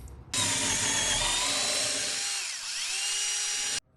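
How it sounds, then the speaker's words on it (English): A power drill whines loudly and steadily as it bores holes for 3/8 bolts when mounting a large utility tank on a trailer, its pitch dipping briefly partway through before it cuts off. "We're getting ready to drill."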